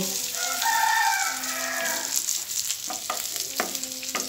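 Fish frying in a pan in a home kitchen with onion and coriander leaves on top, a steady close sizzle with a few sharp crackles and stirring clicks toward the end.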